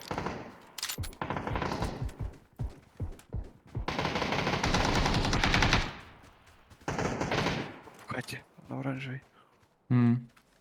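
Bursts of rapid gunfire and single shots from PUBG, loud and close, with a voice talking over and between the shots.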